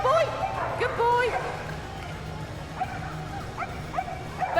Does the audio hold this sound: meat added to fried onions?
no